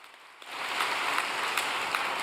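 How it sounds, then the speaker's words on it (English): An audience applauds for Moon In-pyo, a dense, steady roll of clapping that swells in after a quiet start and carries on evenly. "Why don't we give a big round of applause to our brother Moon In-pyo"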